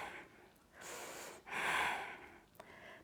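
Slow, deliberate breathing during gentle stretching, with soft airy inhales and longer breathy exhales in a steady cycle, close and quiet with no talk.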